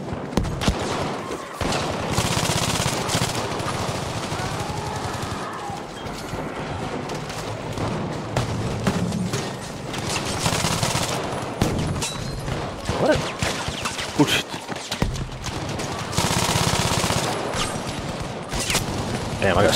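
MMG machine gun fire in Battlefield V on PlayStation 5 comes as loud, sustained bursts of rapid automatic shots mixed with explosions and crashes, with a voice talking over the gunfire.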